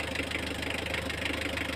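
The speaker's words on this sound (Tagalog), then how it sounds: "Pag palyado ang ating makina at nanginginig" A 4D56 diesel engine runs rough with a misfiring injector, giving a steady, shaky idle rumble that stays loud and close throughout without any speech.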